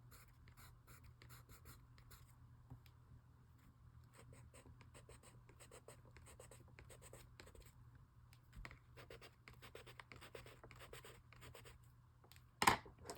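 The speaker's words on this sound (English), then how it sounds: "Let's try this darker pencil on these kind of orangish" A darker colored pencil shading orangish areas of an art journal page makes soft, continuous scratchy strokes. It is close but faint, with no talk and one brief louder tap near the end.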